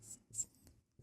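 Pen or chalk writing out a probability solution for a class 10 maths exercise, two short scratchy strokes followed by a faint tap, close and quiet with no speech.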